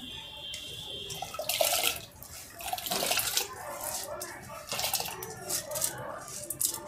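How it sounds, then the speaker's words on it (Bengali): Washed rice tipped into a pot of hot water on the stove, giving splashy, pouring water sounds in a few bursts, close and moderately loud, with faint background noise and no talking. "জল গরম হয়ে গেছে, চালটা ধুয়ে নিয়েছি ভালো করে, এবার চালটার মধ্যে দিয়ে দেবো।"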